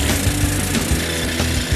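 A power drill bores a hole into rock at height, giving a close, loud, steady grinding roar that continues without a break.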